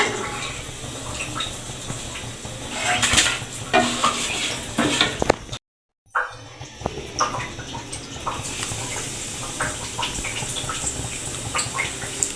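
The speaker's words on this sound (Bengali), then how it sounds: "এখন আমি বেগুনগুলি সব ছেড়ে দেব।" Eggplant slices slide into hot oil after potatoes have been fried, giving a steady close sizzle with stirring clatter, a brief dropout midway, then continued bubbling frying.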